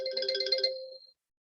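A mobile phone ringtone goes off during a wave optics lesson: a brief bright melodic chime lasting about a second, clear and close, then it cuts to silence.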